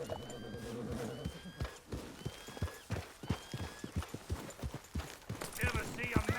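Horse hooves clip-clop in a steady, even rhythm in Red Dead Redemption 2, loud and close, mixed with other game sounds.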